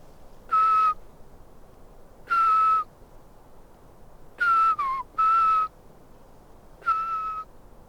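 A person whistles short, level, slightly descending notes imitating a Eurasian pygmy owl, Europe's smallest nocturnal raptor, in a mountain setting; five spaced calls, one bending downward, sounding clear and close against quiet surroundings.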